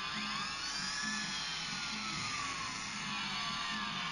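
A racing car's engine in Need for Speed Hot Pursuit on Windows Phone whines in a continuous, high, droning tone with slight pitch sweeps. It plays alone with no talk.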